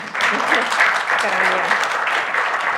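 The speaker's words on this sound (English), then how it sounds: "Well, that deserves a clap anyway, right?" Audience applause after a speaker at a development studies conference session, a steady dense clapping from a hall crowd, loud and continuous with a brief spoken word near the start.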